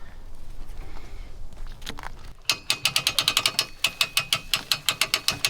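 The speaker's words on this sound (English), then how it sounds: "as we raise the hoist, this will get tighter and tighter and theoretically tear the hide off" A hitch hoist ratchets up while pulling the hide off a lamb carcass: quiet handling at first, then a rapid series of sharp, evenly spaced metallic clicks, loud and close.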